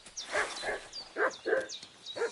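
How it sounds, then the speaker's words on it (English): A dog in Kingdom Come: Deliverance II barks and whimpers in repeated short yelps and whines, moderately close, with no talk. "What's that dog making such a fuss about?"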